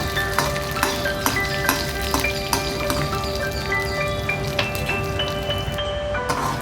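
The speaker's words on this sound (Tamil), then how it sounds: "ஆறு மிளகாய் வத்தல் சேர்த்து ஒரு ரெண்டு நிமிஷம் வதக்கி விட்டுக்கோங்க" Dried red chillies sauté in a pan, a continuous crackling sizzle dotted with sharp pops and scrapes from a spoon, moderately loud and close.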